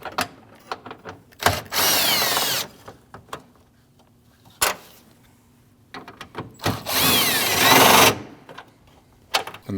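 A power tool spins out 10mm bolts on a Jeep Cherokee bumper, loud whirring bursts of one to two seconds separated by quiet gaps and small clanks.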